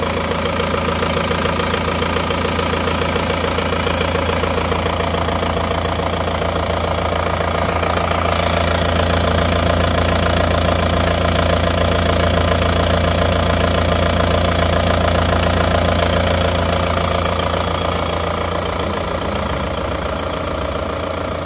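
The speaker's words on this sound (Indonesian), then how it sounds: "Suara mesinnya seperti ini." An Isuzu Panther car engine idles steadily and close up, a continuous even rumble with a light knocking tick running through it, with no talk over it.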